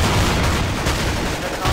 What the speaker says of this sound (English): You hear too many shotguns.